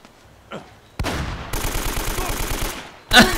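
AK rifle fire in the video game Uncharted: Drake's Fortune, loud rapid automatic bursts after a quiet start, ending in a sharper, louder blast.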